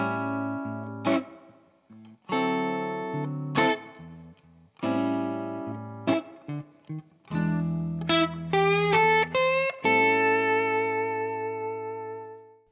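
Electric guitar blues solo lick in A played after a turnaround, with effects-laden distorted tone: phrased note runs and bends in short bursts, ending on a sustained held note, alone and close.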